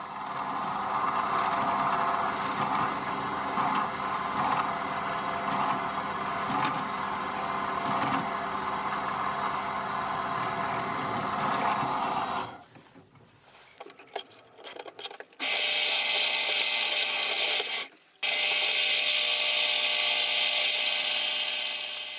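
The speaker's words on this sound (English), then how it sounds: "first drill all holes in one side, clamping tight with a couple of C-clamp" A drill bores holes through knife handle scales held tight with C-clamps, a steady whirring grind for about twelve seconds, then a pause and a second shorter burst of drilling, with no talking.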